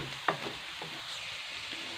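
Macaroni with vegetables fries in a pan, a soft continuous sizzle broken by a sharp scrape of stirring and a few lighter taps, close and quiet.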